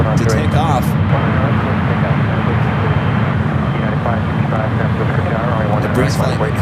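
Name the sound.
heavy airliners moving at SFO airport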